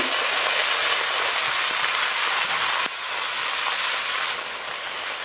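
Eggplant, green chilies and chopped greens fry in hot oil with a steady, loud, even sizzle, a dense hiss that runs continuously with one slight drop in level partway through.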